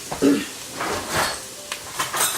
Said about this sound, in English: I'm going to grab a spoon.